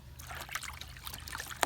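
Dawn dish soap poured into water outdoors, a faint trickling and dribbling with light splashy bursts over a low steady hum.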